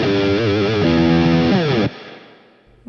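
Distorted electric guitar run through a heavy, swollen reverb plays a few sustained, bending notes, loud and close, then cuts off, leaving a long washing reverb tail that fades out.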